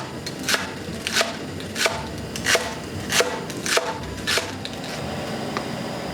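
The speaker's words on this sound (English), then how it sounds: "let's cut up some green onions" A knife chops green onions on a cutting board in a steady series of sharp, close knocks, roughly two per second, with no talking.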